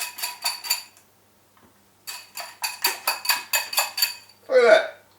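Whisk beating eggs in a bowl, a quick rhythmic run of clinking metal strokes, a pause, then a second longer burst of steady strokes, close and clear, ending with a short spoken remark.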